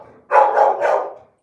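Louie, a pet dog, gives one loud, close, drawn-out bark that breaks into two or three quick pulses in a quiet indoor room.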